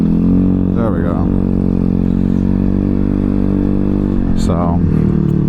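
A Honda Ruckus scooter engine drones steadily and loudly while riding, with two brief rising rev swells, and a person talks over it.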